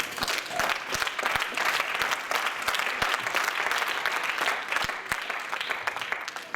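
A church congregation claps steadily and loudly, a dense wash of applause filling the room with faint voices mixed in as worshippers acclaim the Lord.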